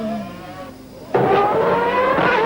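Jean Alesi's Ferrari V12 Formula 1 car at the 1992 Australian race, recorded onboard: a loud, high engine wail sags briefly, then snaps back to full volume at a higher pitch and holds a hard, steady scream.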